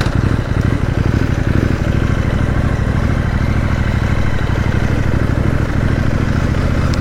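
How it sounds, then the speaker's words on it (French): CFMOTO 800 NK Advanced motorcycle accelerating at higher speed, a loud, steady engine drone with clattering mechanical texture and wind roar running continuously, close and without pauses. "on va entamer la partie un peu plus à haute vitesse pour voir comment se comporte donc cette 800 NK"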